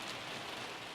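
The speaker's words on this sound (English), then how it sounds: "So, the raindrops had woken her up." Rain falls steadily on a surface in a constant, even hiss of many drops, with no voices.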